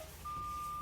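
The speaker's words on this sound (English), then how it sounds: "my warning light and buzzer came on" A truck's low air pressure warning buzzer, set off by pumping down the air brakes during a CDL test, sounds as one steady, even tone that starts abruptly and holds without a break.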